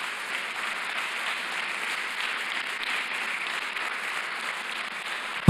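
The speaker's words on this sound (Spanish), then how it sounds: "Den un fuerte aplauso al Señor Jesús" A church congregation applauding during a Sunday sermon, steady muffled clapping heard at a moderate distance, ending in a sudden loud thump.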